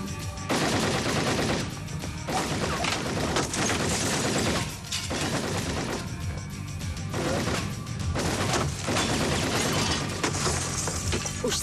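Sustained volley of gunfire striking bulletproof glass, dense cracking shots and sharp impacts in rapid bursts, loud and close throughout with brief gaps between salvos.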